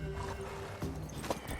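A horse whinnies and snorts in The Witcher 3, amid game-like ambience and a low musical drone, with a few hoof-like knocks.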